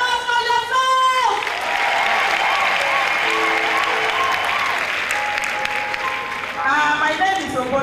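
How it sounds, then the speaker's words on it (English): Audience applause at an International Widows Day celebration, a steady wash of clapping with some cheering, while voices are heard speaking at the start and end. "A round of applause for yourself!"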